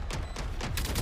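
In the Valorant video game, four quick gunshots crack in a fast evenly spaced burst, loud and close over a dense game-sound background.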